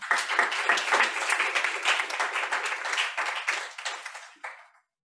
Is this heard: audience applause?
yes